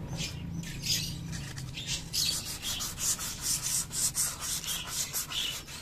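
Sandpaper rubs back and forth on Yamaha Mio Sporty scooter clutch parts in a steady rhythmic scratching, close and fairly quiet, strokes repeating about once per second.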